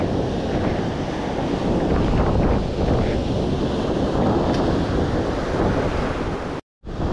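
Sea waves break on the shore during rod fishing, a continuous close roar of surf mixed with heavy wind buffeting. The sound cuts out briefly near the end.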